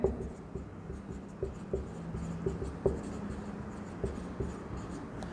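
Chalk or marker taps and scratches on a board as a Fisher's index number formula is written out, a close run of short strokes with brief pauses between them, no speech.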